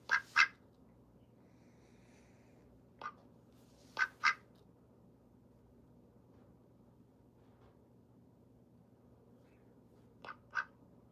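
Olivia Gray, a pet duck, quacks in short bursts of one or two calls spaced several seconds apart, close and clear over a quiet indoor hum.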